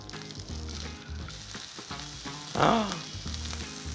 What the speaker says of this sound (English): Now I have some oil heating on this pan